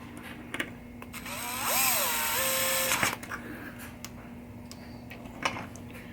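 A powered screwdriver briefly whirs, driving screws into the stepper mech of a 1976 Williams Grand Prix pinball machine, one rising-then-steady burst lasting about a second, with scattered light metallic clicks and taps around it.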